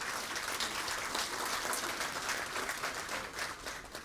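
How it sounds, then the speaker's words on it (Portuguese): An audience at an engineering conference opening applauds an honoree, with fairly quiet, steady clapping heard from a distance across a few seconds. "peço uma salva de palmas para ela"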